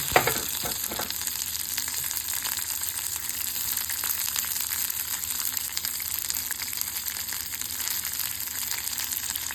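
Onion, garlic, ginger, green chillies and dried red chillies frying in a pan for a bottle gourd seed pachadi, a dense, steady sizzle close by with a few stirring clatters at the start and no talking.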